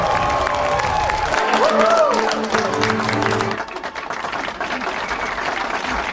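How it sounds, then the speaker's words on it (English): Crowd applause and cheering in a scene from Tommy Wiseau's film Big Shark, as firemen face a gathered crowd: continuous clapping under music tones and voices, which drops to a thinner crowd murmur partway through. "there's an applause sequence that goes on a little bit too long"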